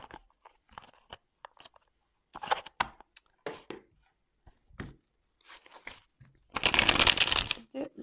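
Oracle cards are handled and shuffled in short quiet flicks, closing with a louder, longer riffle near the end, while someone speaks French softly in between.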